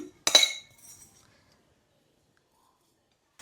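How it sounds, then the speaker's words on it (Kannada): Roasted peanuts, roasted gram and grated coconut drop into a mixer jar with one bright clattering burst, followed by a softer rattle, then near silence. "ಸೊ ಈಗ ಹುರಿದಿರೋ ಶೇಂಗಾ ಬೀಜನ ಒಂದು ಜಾರ್ಗೆ ಹಾಕ್ಕೋಬೇಕು. ಹಾಗೆ ಹುರ್ಗಡ್ಲೆ, ಕಾಯಿ ತುರಿ ಕೂಡ ಹಾಕ್ತಾ ಇದ್ದೀನಿ"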